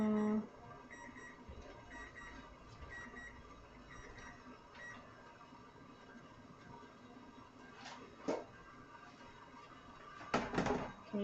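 A kitchen timer alarm goes off during a live yarn-dyeing session with a dye pot, its faint beeping running steadily in the background with a few louder clattering knocks near the end.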